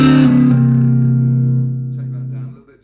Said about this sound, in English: a little bit of distortion there